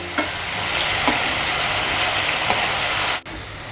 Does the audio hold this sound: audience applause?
no